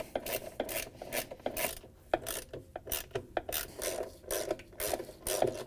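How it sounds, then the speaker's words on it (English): A ratchet with a 1/2 inch socket works loose the bolts holding a Whirlpool, KitchenAid or Maytag washer tub assembly, giving close, rhythmic clicking strokes repeated steadily with brief pauses between swings, and no voices. "Use a ratchet with 1/2" socket to loosen and remove the 4 bolts that hold the tub assembly in place."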